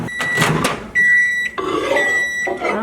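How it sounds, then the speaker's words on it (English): A kitchen microwave oven runs with a steady electric hum and high whine, interrupted by a sharp tonal beep, while clattering handling sounds occur at the start and end. "I'm just gonna shove this in the microwave."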